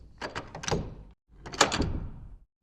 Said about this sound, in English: shut the iron door and fastened the bolt